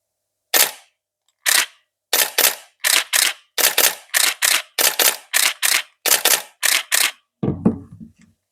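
A Canon 5D Mark III shutter fires about sixteen times in close, crisp clicks, single and in quick pairs, ending with a lower mechanical clatter.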